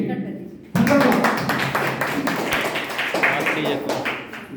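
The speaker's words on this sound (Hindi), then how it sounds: "थंडर ब्लास्ट के लिए मैं चाहूंगा कि शानदार तालियां होनी चाहिए।" Audience claps for the Thunder Blast product at a wellness business-plan meeting, with sharp group applause kicking in suddenly and continuing in a rough rhythm while a voice speaks over it.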